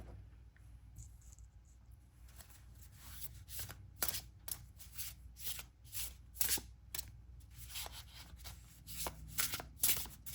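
Tarot cards are shuffled by hand for a pick-a-card reading, with soft papery riffles and sharper flicks in irregular bursts that grow busier toward the end, close-up and quiet with no voices.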